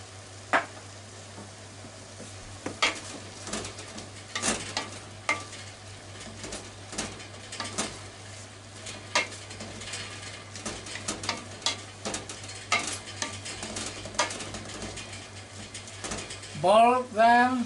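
Shirataki noodles with canned mackerel bubbling and sizzling in a pot, a steady low simmer broken by sharp scrapes and clinks of stirring, with a brief voice at the end.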